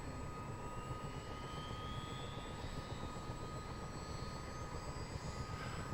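Engine 2 of a CH-47 Chinook helicopter starting up: a dense, steady roar with a faint turbine whine slowly rising above it, continuous and without talk.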